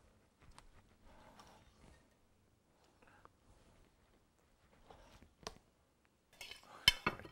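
A knife slices hot meat on a plate served with potatoes and garnish, giving soft scraping and a few faint taps, then louder sharp clinks of metal on china near the end.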